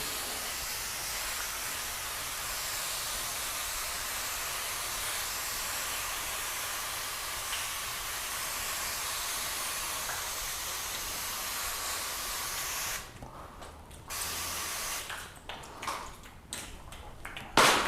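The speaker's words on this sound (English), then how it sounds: "we're going to put the hose into a mist function" A garden hose set to a mist spray plays over a car's sealant-coated paint, producing a soft, continuous hiss that runs steadily, then breaks into short, uneven bursts as the spray starts and stops near the end.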